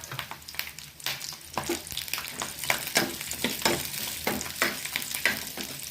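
Slit green chilies and curry leaves frying in oil, with a steady close sizzle broken by repeated stirring scrapes and small crackles throughout.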